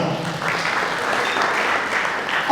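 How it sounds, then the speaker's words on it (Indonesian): An audience at an Indonesian digital marketing seminar for aspiring small-business owners claps in a steady, dense burst of applause that holds evenly throughout, filling the room. "Tepuk tangan dulu dong teman-teman semua."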